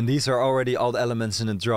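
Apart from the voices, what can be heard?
No distinct noise like a dog, phone or traffic.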